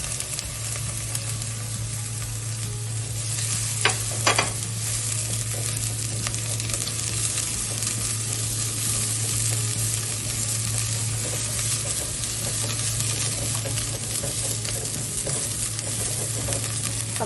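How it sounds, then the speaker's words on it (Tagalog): Ginger sizzles steadily in a little coconut oil with an even, continuous frying hiss and a couple of brief stirring clicks near the start, no voices. "igisa yung luya"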